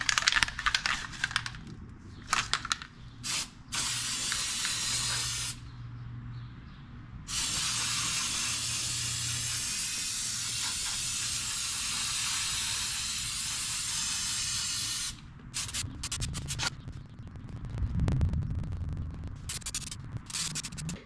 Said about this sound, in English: That's where we will spray.